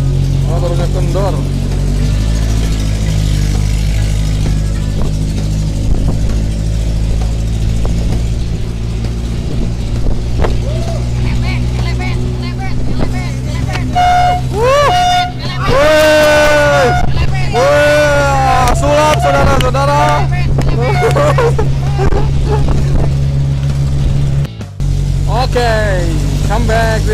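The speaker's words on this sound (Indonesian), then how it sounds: "Motor makin banyak, orang makin banyak." Many motorcycles ride along a crowded road on the way to a freestyle event, engines droning and revving close by while people talk over the traffic.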